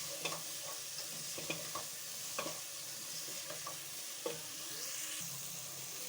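Potatoes and spices fry in ghee in a pot for aloo baingan, a quiet steady sizzle with repeated light scrapes and taps of a spoon at irregular intervals, close and without speech.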